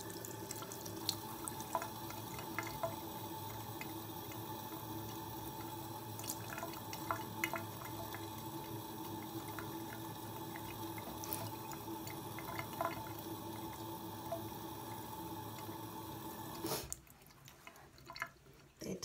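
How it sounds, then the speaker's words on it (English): Tap water running steadily into a sink for a rinse, a continuous close splashing flow with small drips, ending abruptly when the faucet shuts off near the end. "About to rinse it."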